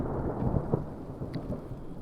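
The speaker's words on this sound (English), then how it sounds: "a lot of sounds of thunder" Thunder rumbles low and steady under light to moderate rain on a Yosemite backcountry hike, with soft patter throughout and a few brief sharper cracks; no voices.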